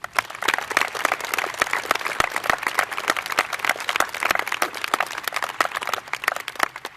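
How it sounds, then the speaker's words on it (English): At the Manalapan High School 2022 commencement, a large audience gives a loud, sustained round of applause for past, present and future military members, with sharp individual claps standing out in the dense crowd clapping. "Let's give our past, present, and future of our nation's military a big round of applause"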